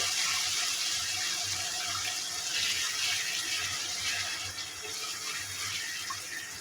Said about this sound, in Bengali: মশলাটাকে ভালোভাবে কষানোর জন্য আমি এখানে সামান্য পরিমাণে পানি দিয়ে দিই